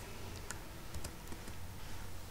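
Typing on a computer keyboard in a few quick, faint keystrokes, spread unevenly against a steady low background hiss.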